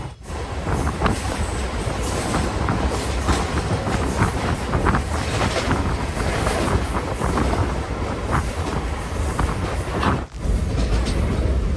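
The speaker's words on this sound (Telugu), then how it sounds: "మన ట్రైన్ అయితే గోదావరి బ్రిడ్జ్ మీద నుంచి వెళ్తుందనమాట" A MEMU express train rolls across the Godavari bridge, a dense steady rumble of wheels and carriages with rhythmic clatter and occasional squeal, loud and close throughout with one brief dip near the end.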